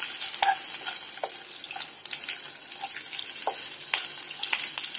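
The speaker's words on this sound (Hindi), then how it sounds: "और ये जो दालचीनी और ग्रीन मिर्ची ली है वो डालेंगे।" Cinnamon and green chilies fry in oil in a pan for an egg biryani, a steady bright hiss carrying scattered crackles and pops, close and continuous with no voices.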